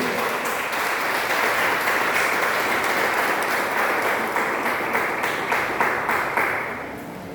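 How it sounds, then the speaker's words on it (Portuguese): A church congregation applauds during a worship service, producing a dense, sustained wash of many hands clapping that holds for several seconds before tapering off, with no clear speech over it. "As palmas do nome do Senhor."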